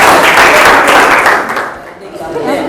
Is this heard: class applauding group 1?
yes